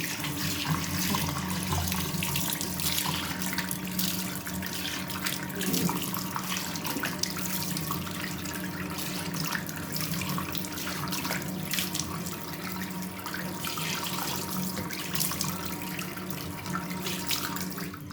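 Tap water runs steadily into a sink while a face is washed, a close, continuous splashing rush with no pauses.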